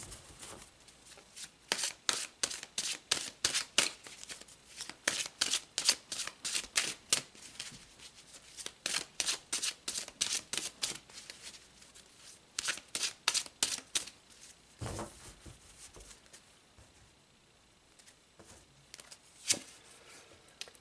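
Tarot cards are shuffled in repeated quick bursts of crisp flicking riffles, close and fairly soft, with brief pauses between rounds and sparser handling toward the end.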